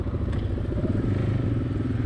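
A motorcycle engine rumbles steadily and loudly at close range, a low throbbing idle with a faint clattery texture.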